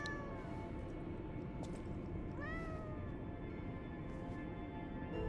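A cat meows in the video game Lies of P, a single clear rising-and-falling call near the middle, set over a steady, loud ambient game background with no talk.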